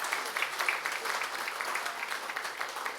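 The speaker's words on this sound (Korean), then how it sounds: "박수 한번 주시죠" An audience at a Suwon civic town-hall event applauds two re-elected provincial councillors, a brief, moderately faint patter of many hands clapping in a hall, fairly even with slight swells.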